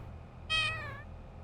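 A single clear cat meow, close and fairly short, rising then falling, over a low steady room hum.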